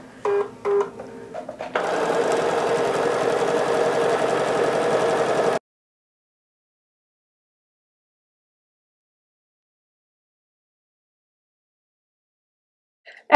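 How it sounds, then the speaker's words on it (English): A sewing machine runs a quarter-inch seam through quilting fabric, a steady close whirring burst of a few seconds after some short preparatory clicks, then silence. "we're just going to sew 1/4-inch to either side of this line"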